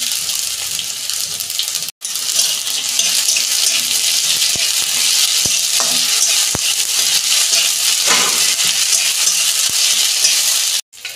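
Ginger-paste masala sizzles loudly and steadily in a pan while being stirred, for a Bengali thor (banana stem) recipe; a broad frying hiss runs throughout with a few soft spoon clicks and two brief breaks.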